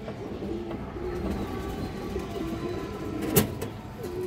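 Pigeons, including a male maxi racer, coo softly in repeated low rolling calls against background traffic noise, with one sharp short sound near the end.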